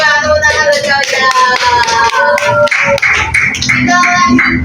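A classroom gives a round of applause for a student, steady clapping of many hands filling the whole stretch, loud and close, with musical tones sounding underneath.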